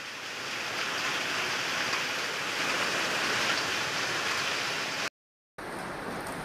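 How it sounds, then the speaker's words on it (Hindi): Heavy rain with storm and hail pours down as a loud, dense, continuous roar of water hitting surfaces, cut by a brief silent gap near the end. "यहाँ तो बारिश के साथ साथ तूफान और ओला भी गिर रहा था।"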